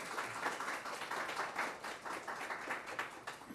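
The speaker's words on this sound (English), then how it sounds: "Can we have a round of applause for all of our authors to thank them for joining us today?" An author panel audience applauds in a steady, even patter of many hands clapping, fairly faint and distant in a room.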